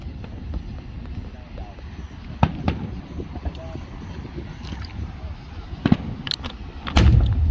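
Professional fireworks boom and crackle at a distance, scattered sharp bursts with a heavier loud bang near the end, over a steady low outdoor rumble.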